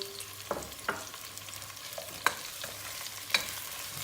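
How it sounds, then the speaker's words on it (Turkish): Onions, red peppers and tomato paste sauté in a pan, a low frying sizzle broken by a handful of sharp utensil knocks as the mixture is stirred, close and fairly quiet with no talking. "Soğanları dağıtmadan bunları güzelce bir kavuracağız."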